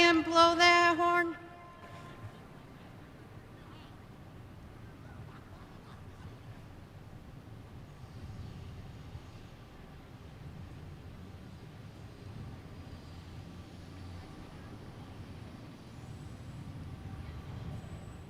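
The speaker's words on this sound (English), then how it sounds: "We scheduled that train to go by and blow that horn?" Passing train sounding its horn during an outdoor high school graduation ceremony in Penfield, New York: a loud, harmonically rich horn blast for the first second or so, then a low, steady rumble of the train rolling by for the rest.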